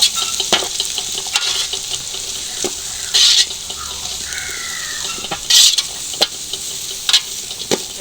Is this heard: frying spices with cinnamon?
yes